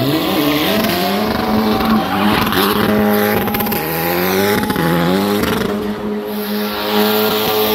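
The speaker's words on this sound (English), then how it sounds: "Please make some noise for Suhail Shah on the Formula 4 race car." A Formula 4 race car at a motorsport festival roars past loudly and steadily, its engine note rising and falling in pitch as it sweeps by nearby, with no voices over it.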